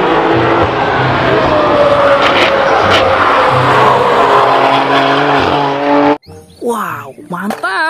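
A toy race car plays a loud, continuous engine-and-racing sound effect with warbling tones, then cuts off abruptly as an excited voice speaks over the last seconds.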